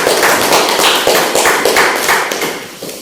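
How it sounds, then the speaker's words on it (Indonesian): A classroom group claps for a team of students after their presentation, giving a short burst of close, loud, slightly uneven clapping that tapers off after about three seconds. "Beri tepuk tangan untuk kelompok 2."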